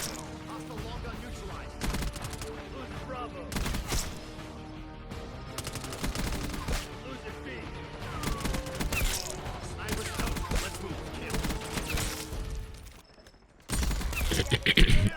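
Rapid, dense gunfire from a hand cannon in the video game Black Ops 6, loud bursts of shots crowding together over busy battle noise, with a short lull before firing resumes.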